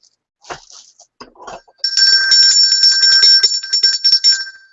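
Several small hand bells ring brightly together in a sustained, shimmering jangle after a few scattered clinks and handling sounds, close and fairly loud.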